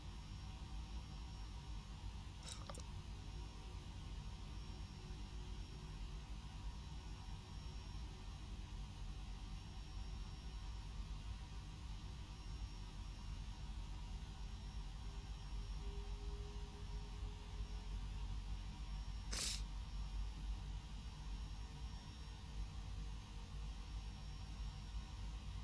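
A Boeing 767-200ER taxis for takeoff at Alice Springs in the X-Plane 12 flight simulator, giving a steady, even engine hiss and rumble throughout, with two brief sharp clicks along the way.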